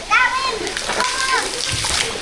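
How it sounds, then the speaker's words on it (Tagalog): Water splashes and spills from a children's toy water pump, with small children's voices chattering over it throughout. "May tubig na lumalabas"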